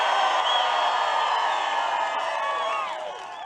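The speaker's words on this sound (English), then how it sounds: "I want you all to cheer for each other right now" Large crowd cheering and whooping at an outdoor political campaign rally in Loudoun for a governor's bus tour, a dense sustained roar of voices with shrill whistles and shouts that fades slightly toward the end.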